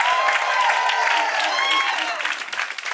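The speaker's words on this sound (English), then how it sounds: "clap it up for yourselves for coming out today" Comedy show crowd in Baltimore clapping in a steady wash of applause and scattered cheers that fades toward the end, with a voice talking over it.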